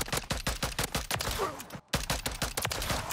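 Rapid bursts of gunfire from a weapon in the video game Modern Warfare 3, a dense stream of sharp shots firing nearly nonstop for about three seconds, with a brief break partway through.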